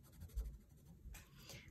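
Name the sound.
colored pencil drawing on paper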